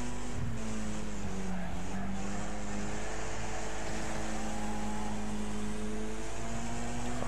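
Race cars bunched together in the Wreckfest video game roar steadily at a distance, engines droning in a continuous low hum with faint tire scrubbing throughout.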